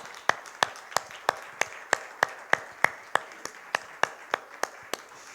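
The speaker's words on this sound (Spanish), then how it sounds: "Vamos a darle un aplauso a nuestro Señor" A church congregation claps together in a steady, even rhythm, about three sharp claps a second, each crisp and distinct over a quiet room.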